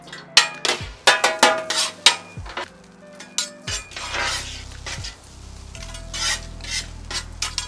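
Day-old cold rice fries on a hibachi griddle, with a run of loud metallic spatula scrapes and clanks in an uneven rhythm over a lower steady sizzle.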